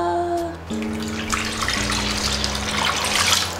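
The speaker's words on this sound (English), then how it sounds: "So we add the gelatin, and then we add the water." Water pours steadily from a tap into a bowl of gelatin for a fruit jelly cake, a continuous close splashing flow with shifting pitch as the level rises.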